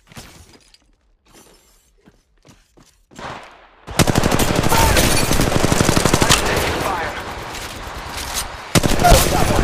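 Sparse quiet clicks and movement lead into loud sustained automatic gunfire in a battle royale match of the game Apex Legends Mobile at Kings Canyon, with rapid dense bursts and impacts continuing to the end.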